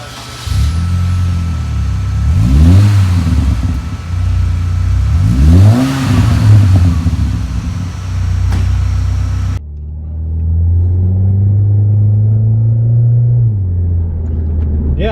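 A Saab 9-3 Arc with a newly fitted muffler revs up and down in several loud, rising and falling engine sweeps, then settles into a steadier, quieter run.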